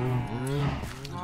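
Cow in Minecraft giving a short low moo, close and fairly loud, with faint background noise.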